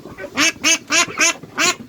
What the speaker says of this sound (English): Only female ducks make that quack noise